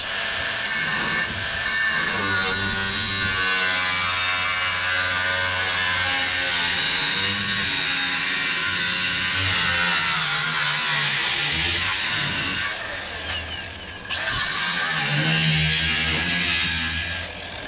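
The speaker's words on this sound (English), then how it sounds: "when I'm cutting like body panels like this, I'd like to have the blade all the way down" A power saw with its blade set all the way down cuts through the sheet-metal body panels of a truck bed, giving a loud, steady, buzzing whine that holds for most of the cut and dips briefly near the end.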